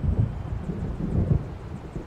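Low, rolling thunder from a gathering storm out over the water in the video game Alan Wake Remastered rumbles continuously, deep and heavy, with gusty wind noise.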